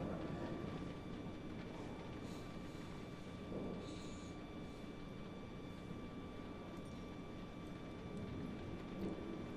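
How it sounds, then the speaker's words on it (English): Steady rain falls in the Assassin's Creed Syndicate video game, a faint continuous hiss with a low rumble of thunder underneath. "Other than that, it's just raining. Just rain. Rain everywhere."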